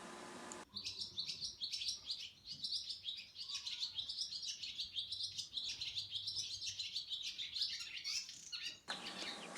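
A barn swallow chirps and twitters in a quick, continuous run of high, bright notes, close and clear over a quiet outdoor background.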